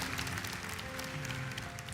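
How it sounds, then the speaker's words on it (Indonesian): A church congregation claps together in a sustained wash of applause, fairly even and continuous, with a faint tonal hum underneath from the hall sound system. "Tepuk tangan bagi Tuhan"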